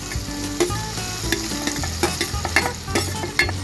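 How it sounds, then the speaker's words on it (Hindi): Capsicum, green chili, tomato and onion fry with turmeric in a pan, a close, steady sizzle punctuated by rhythmic spatula scrapes and knocks against the metal, with no speech. "और ये सारी वेजिटेबल्स को अच्छी तरह से फ्राई करना है हमें।"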